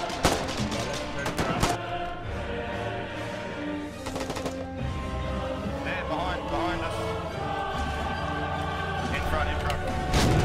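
A field gun fires on an armored car in the war game Foxhole, with sharp repeated shots and thumps in the first seconds and scattered gunfire continuing under shouting voices.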